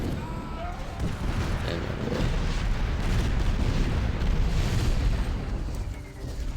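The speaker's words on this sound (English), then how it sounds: "we're just gonna lob some grenades" Grenade and mortar explosions in the Art of War video game form a dense, continuous rumble of booms and bursts, loud and unbroken throughout.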